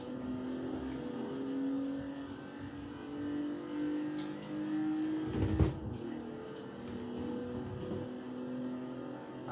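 BMW i8 engine in Forza Horizon 4 rises in a steady synthetic drone with shifting pitch, heard faintly at moderate distance with no speech.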